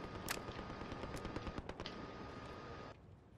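Rapid bursts of automatic gunfire and single shots crackle in a Warzone duos firefight, dense and loud for about three seconds, then cut off abruptly into quieter background.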